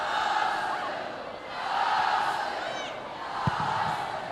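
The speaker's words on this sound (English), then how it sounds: "The crowd here, the Arsenal fans certainly get louder when Alessia Russo gets on the ball and faces forward." Arsenal supporters in a large stadium crowd at a Women's Super League football match against Liverpool, a steady roar that swells and rises at moments, with a brief thump near the end.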